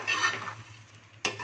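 Fried gobi (cauliflower) tipped into a pan of Manchurian sauce and stirred, giving a soft scraping, clattering burst of spoon against pan, a quieter stretch with a faint low hum, then another sharp clatter near the end.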